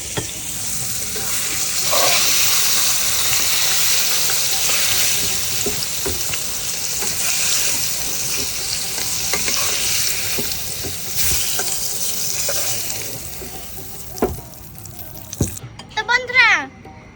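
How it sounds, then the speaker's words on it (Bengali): Pointed gourd frying in hot oil in a pan while being stirred, giving a steady close sizzle broken by scrapes and clinks of the utensil, with a few sharper knocks near the end. "এই যে দেখুন পটলটা ভালোভাবে ভেজে নিয়েছি তো এবার আমি তুলে নেবো"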